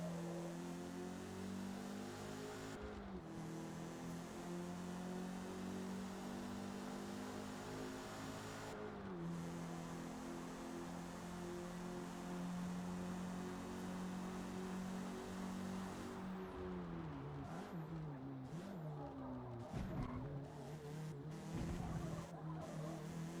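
A race car lapping a circuit in the video game Forza Motorsport: a steady droning engine note with pitch dips at gear changes and corners, and tire squeal and skidding bursts near the end.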